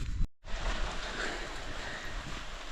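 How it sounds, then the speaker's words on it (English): Rain falling at a house construction site on foundation screeding day, a steady soft hiss across the whole clip after a brief dropout near the start, faint and even. "It's actually raining"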